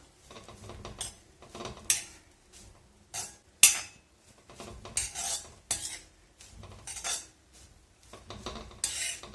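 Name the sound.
frying grated coconut with curry leaves in a pan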